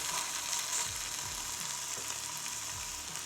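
Steak searing on a Ninja Foodi Grill and Griddle gives a constant, even sizzle with a soft low rumble underneath, close and fairly quiet, with no voices.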